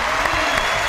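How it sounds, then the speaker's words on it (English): An audience applauding Ed Begley Jr., a dense, steady clapping of many hands filling the hall for about a second, with no speech over it. "let's give him a round of applause for that"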